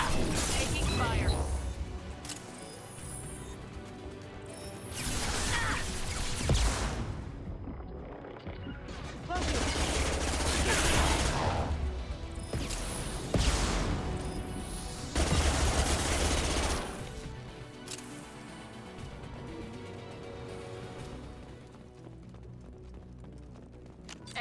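Mass Effect 2 combat gunfire: several loud bursts of rapid shooting in separate waves, with a voice talking between and over them.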